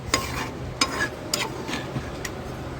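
Butter melting in a pan over tomatoes and ginger for paneer palak, with a soft steady sizzle and several distinct spoon scrapes and taps against the pan, close up and without any voices.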